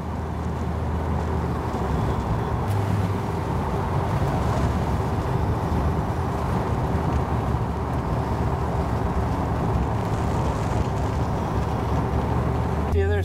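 A 1951 Chevy pickup with a 454 big block engine, tall-geared, cruising on the road. A steady low engine drone and road rumble continue at an even level throughout.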